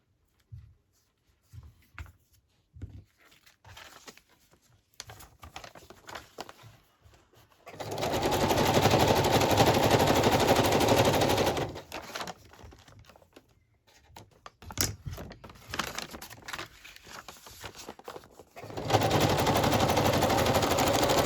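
A sewing machine stitches fabric for an ocean-themed craft piece, running in bursts of a few seconds each, loud and close, with quieter handling clicks and rustling in the pauses between runs.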